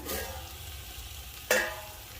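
Stuffed okra (bharleli bhendi) with masala filling, uncovered and frying in a pan, gives a soft, low sizzle, broken by one sharp scrape or stir partway through, with no talking.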